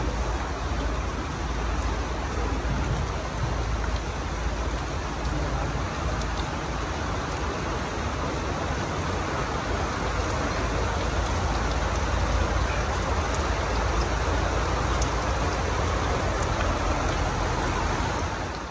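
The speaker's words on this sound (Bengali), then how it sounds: "এতক্ষণ অনেক রৌদ্র ছিল, আর এখন বৃষ্টি।" Rain falls on a rural homestead as a loud, dense, unbroken wash of hiss that holds steady throughout, with no voices.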